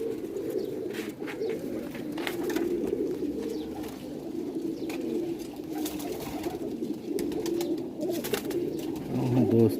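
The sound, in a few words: pigeons cooing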